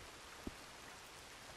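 Steady rain hisses softly and evenly in the Red Dead Online video game, quiet and constant, with two faint dull thumps standing out briefly.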